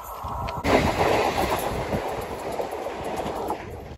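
A train rushes past on a nearby track near Vasai, with a loud, sustained rumble and rattling roar of wagons that swells suddenly and holds steady with no talking.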